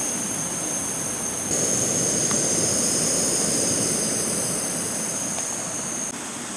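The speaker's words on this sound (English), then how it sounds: "So I use the jet boil here to boil some water." A Jetboil camping stove burner roars steadily up close while boiling water, a continuous hiss that grows louder after a moment and holds with no voices.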